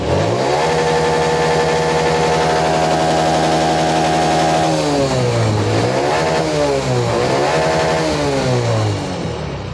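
A Honda Dream Yuga motorcycle engine, suffering a CDI problem, revs hard at full throttle, holding a steady loud drone before its pitch swoops up and down in several repeated throttle blips, close and continuous with no talk.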